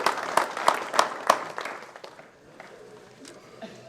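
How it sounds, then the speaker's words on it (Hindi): Audience applause at a mushaira poetry gathering, a few sharp claps standing out at first, then thinning to a faint scattered patter. "बिल्कुल बिल्कुल जोरदार तालियां होनी चाहिए"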